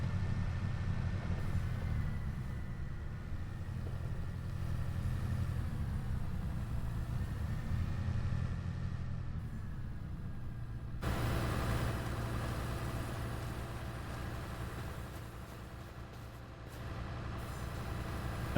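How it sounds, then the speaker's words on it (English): A tractor engine in a logging roleplay video game drones steadily and loudly throughout, with a shift in tone partway through and no talk. "let's not force the tractor too much."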